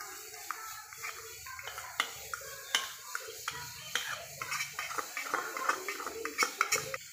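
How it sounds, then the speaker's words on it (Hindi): A spoon clinks and scrapes around a bowl while malai cream is mixed with milk powder, giving irregular close taps and rattles with some background noise. "अब इसे अच्छे से मिक्स कर लेंगे।"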